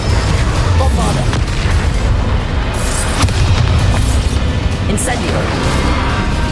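Bombarda spell explosions in Hogwarts Legacy combat: loud, heavy booms and crashing bursts in a dense, continuous battle din, with spell-casting voices shouting over it.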